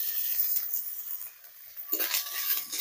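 Onion paste, ginger and spices fry in a pan for a bamboo shoot kofta curry, a soft sizzle with scraping stirring strokes that grow louder toward the end, no voices.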